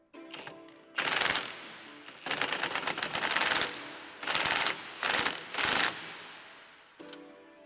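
An impact wrench fires in several loud bursts of rapid hammering on the rear lateral control arm bolts of a 2022 BRZ/GR86. Each burst lasts about a second, and quiet pauses separate them.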